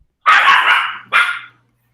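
A dog gives two loud, sharp barks close by, a longer one followed quickly by a shorter one, then silence.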